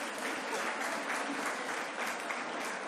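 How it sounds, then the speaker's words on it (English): A conference audience applauds steadily, many hands clapping together in a dense, continuous patter that stays even throughout. "Let's give them a big hand of applause."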